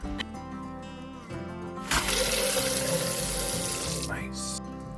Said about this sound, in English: 3 cheers for running water.